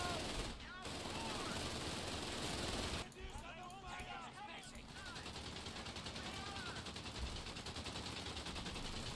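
MG-22 machine gun with crew firing in Company of Heroes 3, dense battlefield gunfire sustained throughout, briefly cut out near the start and again at about three seconds, with faint voices mixed into the noise.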